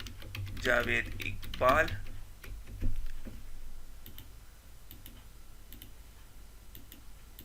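Computer keyboard keys tapped while a C# print program is written, a few soft clicks and taps under brief speech from a man, with faint scattered keystrokes continuing afterward.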